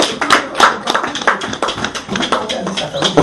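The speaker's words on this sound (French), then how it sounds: "applaudissons pour elle alors." A church congregation in Douala claps for a woman: quick, close clapping in an uneven rhythm, mixed with voices.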